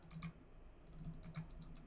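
Quiet computer keyboard keystrokes tapping faintly in short scattered clicks against a low room hum, with no talking.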